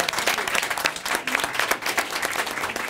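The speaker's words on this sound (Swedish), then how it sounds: "en stor applåd" Audience applause at a Swedish talk show event on climate and food waste, a dense steady burst of many hands clapping close by with a few louder individual claps poking through, lasting the full three seconds.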